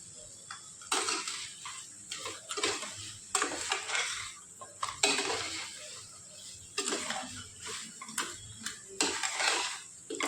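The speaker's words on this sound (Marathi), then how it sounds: "एक 5-7 मिनटं आपण असं परतून घेऊ." Crab masala sautéed in a pan, South Indian style, with a spoon scraping and turning the pieces in repeated bursts of clatter and sizzle, close and fairly loud, pausing briefly between strokes.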